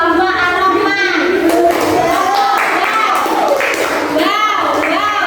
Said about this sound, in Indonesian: kita kasih tepuk wow untuk kelompok Ar-Rahman